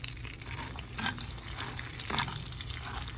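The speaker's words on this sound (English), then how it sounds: "I'm going to mix that all in like so." Sugar being stirred into melted butter in a pan, with quiet, uneven scraping strokes and a couple of louder brushes against a faint low background, no voices.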